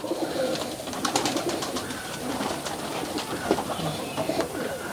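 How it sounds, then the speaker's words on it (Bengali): Tiger Giribaz tumbler pigeons coo steadily and close by, their calls layered with soft chirps and scattered taps over a constant background murmur. "এটা মাদি কবুতর"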